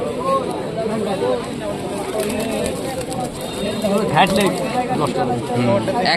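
Rampuri pigeons at a busy livestock market, cooing softly beneath a steady crowd of overlapping voices and chatter.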